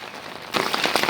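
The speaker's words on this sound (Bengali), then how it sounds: "চারিদিকে ঝমঝম বৃষ্টি পড়ছে" Heavy pre-monsoon rain on a village day in Bangladesh: a dense, loud rush of rainfall surges in halfway through after a quieter patter, with crackling drops hitting a surface up close.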